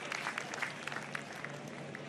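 Spectators at the 2025 CME Group Tour Championship golf tournament clapping after a fine shot, a faint, distant scattered applause with a few sharper individual claps standing out, thinning as it goes.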